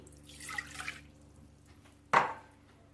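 Lukewarm water is poured into a bowl to start pizza dough, giving a brief, soft splashing trickle, then a pause and a single sharper splash or drip, in a quiet kitchen.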